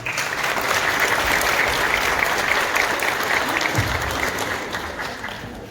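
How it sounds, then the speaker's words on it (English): A church congregation claps during a Sunday sermon, a dense, even round of applause that holds for about five seconds and then tapers off. "Everyone give Stephanos a round of applause"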